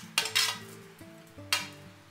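Roasted gooseberries are stirred into an Andhra-style pickle mixture in a pot, giving two bursts of scraping and clinking from a spoon against metal over a low background hum, with no voices.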